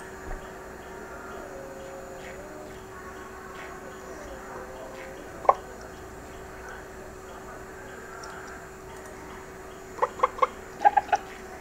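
A chicken in the video game Mine Blocks gives a short cluck, then a quick burst of several clucks near the end, heard over a steady electronic hum.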